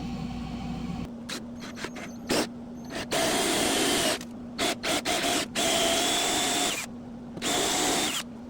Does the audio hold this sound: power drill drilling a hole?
yes